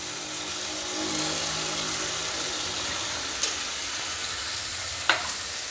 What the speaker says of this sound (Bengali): এখন আমি বাঁধাকপিটা দিয়ে দিলাম